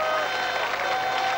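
Crowd applause at a football stadium during a match between Hetman Włoszczowa and Korona Kielce, a steady dense wash of clapping from a distant stand with a faint crowd murmur, continuous for the whole stretch.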